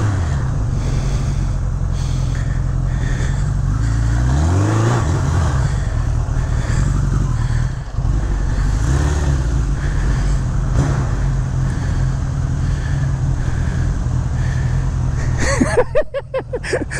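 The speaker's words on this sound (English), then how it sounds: "I've done a lot of burnouts on this bike in the past." A 1985 Suzuki GS1150E motorcycle engine roars continuously during a burnout, heard on-board with heavy wind rush, a brief dip midway and rising revs near the end.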